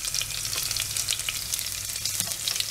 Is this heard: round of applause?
no